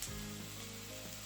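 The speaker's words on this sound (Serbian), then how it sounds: "Stavila sam malo mlevene paprike i bibera i dalje pržim." Onion fries with ground paprika and pepper for bolognese sauce, giving a faint, steady sizzle in the pan with no talking.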